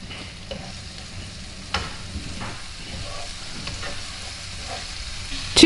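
Speck frying in a pan for pasta with ricotta and walnuts, a steady soft sizzle with occasional scrapes and clinks of stirring, close by and without voices.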